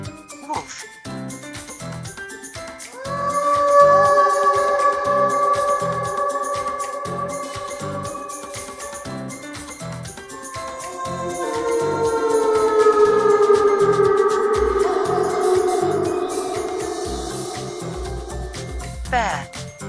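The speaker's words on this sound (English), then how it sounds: "Wolf." A wolf howl from an animal-sounds teaching series, rising into long, sustained wavering tones that start after a short pause, fade, then swell again loud and mournful, alone with no talking.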